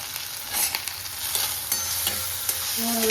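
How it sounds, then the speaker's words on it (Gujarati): Bhel ingredients are stirred together with salt, turmeric and chutney, a close, continuous rustling scrape with small ticks and clicks from the mixing, no talk. "બધું એને મિક્સ કરી દેવાનું છે"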